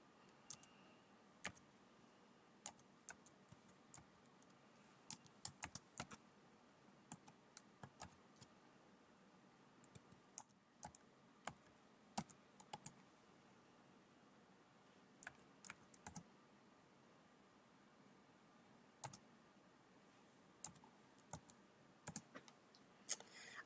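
Quiet, irregular keystrokes on a computer keyboard as a function is typed in, isolated clicks and short bursts spread across the stretch with near-silence between them.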